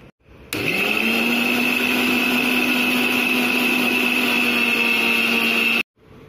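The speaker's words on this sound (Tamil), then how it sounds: "இப்போ இது எல்லாத்தையுமே மிக்சியில் போட்டு அடிச்சுக்கலாம். இப்போ இதை மூடிட்டு நல்லா அடிச்சுக்கலாம். பல்ஸ் மூடில் அடிச்சுக்கோங்க." An electric kitchen mixer grinder blends egg mayonnaise ingredients in a single steady pulse, a loud close whirring motor whine that starts abruptly, holds even for about five seconds, then stops dead.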